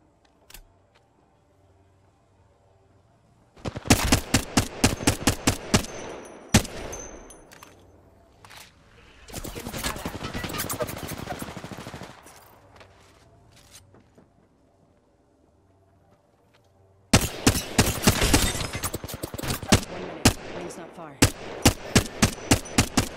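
Apex Legends gunfire: loud rapid automatic bursts in several clusters separated by quieter gaps, one burst blurring into a dense rattle, with sparse single shots between.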